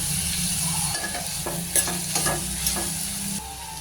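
Onion with a pinch of turmeric being stirred and fried in a pan, giving a steady close sizzle with scraping and clinking of a spoon against the pan at irregular intervals, with no talking.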